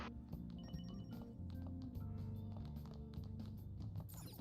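A payphone rings in the game Persona 5 Royal, a trilling ring that sits fairly quietly inside the steady in-game music.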